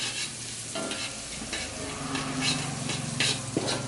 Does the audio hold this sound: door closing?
no